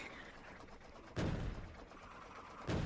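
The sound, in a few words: cannon firing in the video game Factorio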